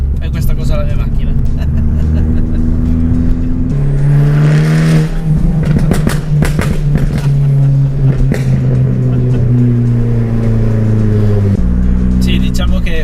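An Abarth car revs hard under a loud, continuous exhaust note, the tone rising and falling with the throttle while crackling pops and bangs break through, and someone talks over it throughout.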